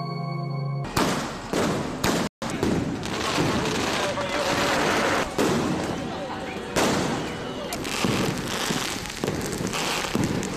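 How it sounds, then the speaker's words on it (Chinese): Firecrackers and fireworks go off for Tibetan New Year, a dense stretch of crackling bangs and thuds, fairly distant and continuous, with voices mixed in. "在辞旧的爆竹烟花中"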